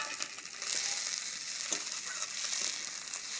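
Dried red chillies with chopped tomato fry in a pan, giving a continuous soft, even sizzle, close and steady, with no voices.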